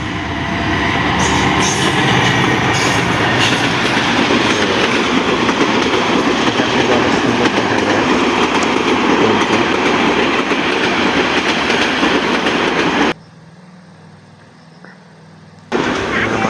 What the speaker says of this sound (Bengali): এই দেখেন ট্রেন চলে এসেছে